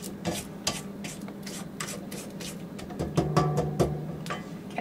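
A silicone spatula scrapes gluten-free, flourless, sugar-free chocolate cake batter around a bowl in quick repeated strokes, close and moderately loud, with no talk.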